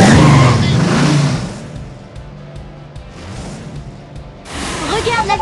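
Cartoon monster truck roaring at full throttle in a race, a loud engine surge at the start that fades under talk, then swells again near the end.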